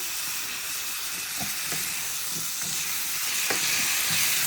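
Onion and turmeric-garlic-chili masala with tomato added, frying in a pan for rui fish do pyaza, a steady bright sizzle and hiss with occasional spatula scrapes and pops.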